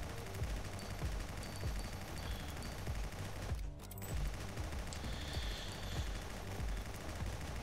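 Rapid automatic gunfire in the video game Guncraft Survivors, with sustained bursts of shots running almost continuously, dense and steady, with a brief gap near the middle and no speech.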